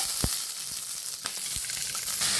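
Shallots, garlic, ginger, green chillies and tomato frying in a pan, a steady close sizzle with a few clinks of a spoon stirring.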